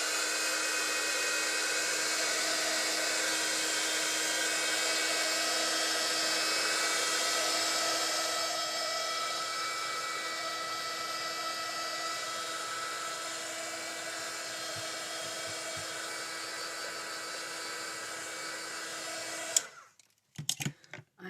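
A handheld dryer blowing on freshly stamped ink on craft card gives a steady, loud whirring whine for about twenty seconds before it switches off, followed by brief handling noises.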